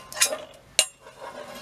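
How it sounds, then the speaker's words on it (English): A hot frying pan scrapes and clinks on a camp stove at an outdoor campsite, with two short metallic knocks close by and quiet between them. "that slides around now, and that's a frying pan, that's hot, don't touch that"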